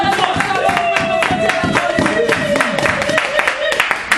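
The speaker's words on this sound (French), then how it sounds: "Voilà pourquoi tu vas donner des acclamations pour le roi." A church congregation claps in quick rhythmic bursts while voices shout acclamations for the king, loud and close, with a tonal voice or music carrying through the clapping.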